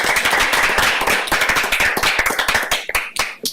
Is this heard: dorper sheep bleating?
no